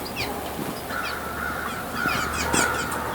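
A bird calling repeatedly outdoors, short harsh cries rising over a steady background hum, moderately close and without talk.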